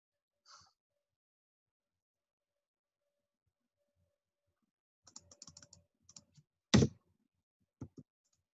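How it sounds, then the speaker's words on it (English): Computer keyboard typing during an online math lecture, heard as a brief burst of light clicks and taps, followed by a sharp louder key thump and a couple of faint clicks, with no talk. "I don't know why it won't let me get back to typing."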